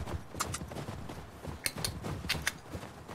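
Horse hooves clip-clop in The Last of Us 2, a run of moderately loud, irregular sharp hoof strikes over a busy low rumble of game ambience.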